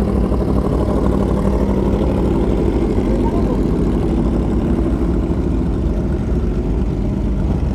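A troubled motorcycle engine idling, a loud, steady, unbroken drone that holds close throughout while the rider is out riding in Bandung.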